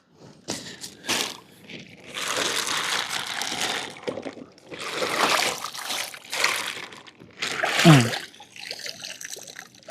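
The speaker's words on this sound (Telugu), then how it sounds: "సో ఇందులో కొన్ని నీళ్ళు వేసుకుందాం." Water poured from a container onto puffed rice being readied as fish feed near a lake, heard as uneven bursts of splashing and trickling with short pauses between pours, fairly close.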